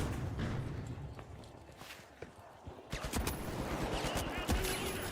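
Rapid gunfire crackles in a first-person shooter game, a dense burst of sharp cracks and impacts rising loud after a quieter lead-in.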